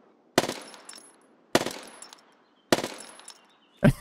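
UZI Pro pistol firing in a video game: three sharp, loud reports spaced about a second apart, each with a decaying echo tail, followed by a shorter heavier hit at the end, with no talking.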